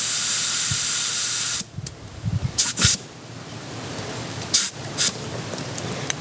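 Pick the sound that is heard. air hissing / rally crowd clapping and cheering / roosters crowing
air hissing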